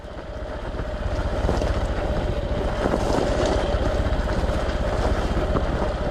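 A Honda XR150L motorcycle climbs a loose-gravel off-road hill, its engine droning steadily and loudly under heavy wind buffeting on the microphone.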